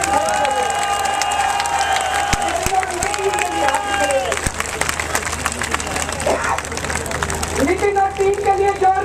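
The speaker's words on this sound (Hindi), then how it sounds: "और सबसे जोरदार तालियां नितिन के लिए" Crowd clapping and cheering for a devotional singer and his team after a day of bhajan and kirtan singing, loud and busy, mixed with tonal music, babble and voices throughout.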